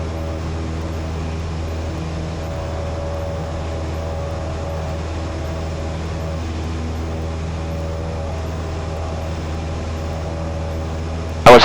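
Steady drone of a small propeller airplane in flight with three people aboard, a constant loud engine hum with tonal harmonics holding evenly throughout, no talk heard.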